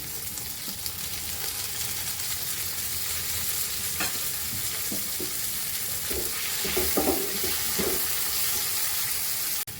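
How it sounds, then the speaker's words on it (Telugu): Green chili and tomato pieces fry in a pan. A steady hiss of sizzling fills the background, with scattered stirring clatters gathering near the middle and a slightly louder frying burst toward the end, and no voices. "ఇప్పుడు టమాటా ముక్కలు వేస్తున్నాము"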